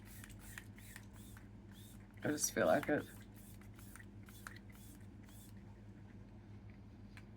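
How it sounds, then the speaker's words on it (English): Setting spray is misted onto a face in one short, soft hissing burst of under a second, with a person talking quietly around it. "I do want to do a bit of setting spray at this point before I do brows."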